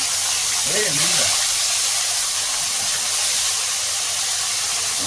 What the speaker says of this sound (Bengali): হালকাতে মাছ ভাজছি